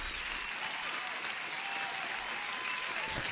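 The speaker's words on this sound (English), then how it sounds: "huge applause for every one of you guys." Applause sound effect played during a livestream: a steady, dense wash of clapping lasting a few seconds, fairly faint and uninterrupted, with no talk over it.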